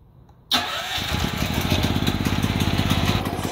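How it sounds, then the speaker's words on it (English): A Firman tri-fuel generator running on gasoline fires up on its electric battery start after a short silence and settles into a loud, steady, close-up running engine. "This is a battery start, so you don't have to pull the crank."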